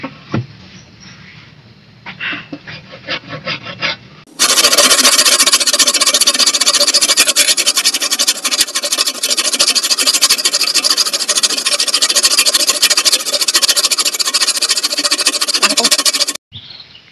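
Wood being cut to make an axe handle: a quieter scraping start, then about twelve seconds of loud, steady, high-pitched rasping and squealing from the cut, ending abruptly. No speech.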